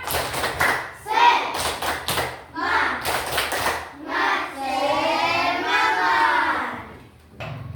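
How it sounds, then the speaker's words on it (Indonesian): Fifth-grade pupils in an Indonesian elementary school classroom perform a rhythmic spirit clap, with sharp clap bursts in quick patterned groups and children's voices chanting and shouting between and after the beats. "Nah, sekarang tepuk semangat."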